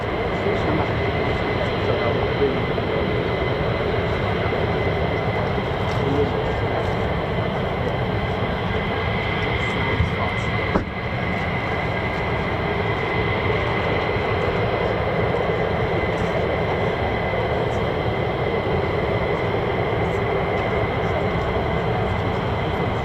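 An F-35 fighter jet with its F135 turbofan engine approaching an air base, a steady distant broadband roar holding at constant loudness throughout, with faint voices mixed in.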